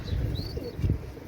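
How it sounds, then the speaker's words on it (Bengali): A pair of male imported-bloodline Pakistani pigeons coo softly and close by, low throaty coos rising twice within a brief stretch, with a faint chirp above. "এখানে কবুতর পেয়ার দুইটা দেখেন"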